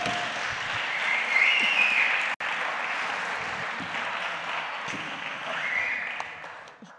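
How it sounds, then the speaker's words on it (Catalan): A studio audience applauds a pair of guests on a Catalan talk show about castells. Dense, steady clapping runs loud for the whole stretch, with a brief cut partway through, and fades slightly at the end. "Un aplaudiment pel Miquel i la Txell."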